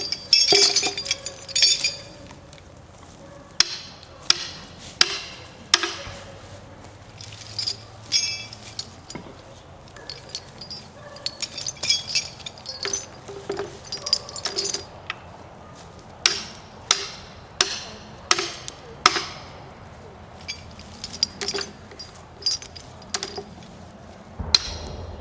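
A heavy iron grab maul with a spike drives log grabs in during an old-time lumbering demonstration, sending out a long series of sharp, ringing metallic strikes at an uneven pace, loud and close.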